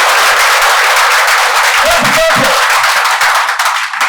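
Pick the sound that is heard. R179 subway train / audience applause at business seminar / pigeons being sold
audience applause at business seminar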